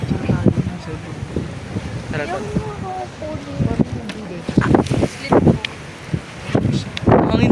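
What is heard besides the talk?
wind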